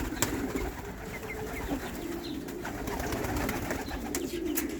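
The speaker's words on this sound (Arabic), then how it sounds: "عندنا هنا حمام عوادي يا شباب، حول 25 جوز" Roughly fifty pigeons, about twenty-five pairs, coo softly in a loft, their low murmuring calls layered over a steady background hum, moderately near and without talk.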